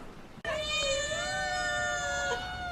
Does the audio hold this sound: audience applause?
no